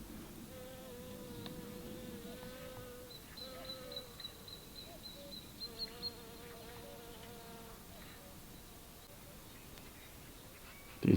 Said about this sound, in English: Up until now, I have not seen any bees. And this looks like a bee.